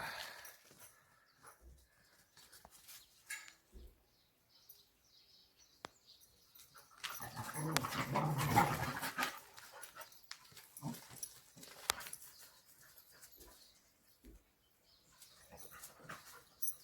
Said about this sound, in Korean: 그놈이 또 뒤에서 낑낑거리네요